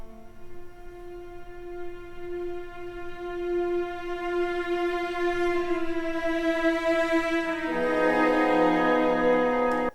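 Frankfurt Radio Symphony playing the opening of Wagner's Tristan, reaching the Tristan chord: soft sustained orchestral tones that hold and slowly swell, then shift into a fuller, louder chord near the end, with no voices.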